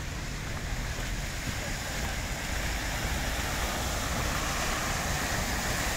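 Flood water rushes like a river current across the grounds of VDNKh in Moscow during a July 2022 downpour, a steady, dense broadband roar that holds throughout with no pauses.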